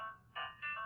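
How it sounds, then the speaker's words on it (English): A phone alarm goes off with short bright electronic tones in two quick bursts, clear and alone in a quiet room. "my alarm on my phone went off"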